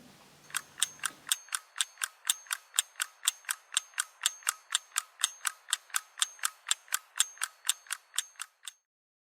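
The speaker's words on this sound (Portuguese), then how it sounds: "O tic-tac do relógio é um som fraco." A clock ticks steadily and evenly, close and clear, about three ticks every second for the whole stretch, alone with nothing else in the background.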